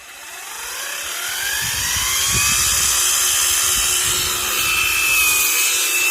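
A Grant ATG 20 cordless battery grass trimmer runs steadily, a high whining motor hum that rises slightly in pitch and holds loud and close throughout, with some rustling low rumble underneath.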